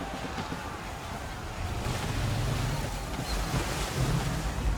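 A sailing ship in Assassin's Creed III pushes through rough water, with a steady rushing wash of waves and wind buffeting the microphone, and low surges swelling underneath throughout.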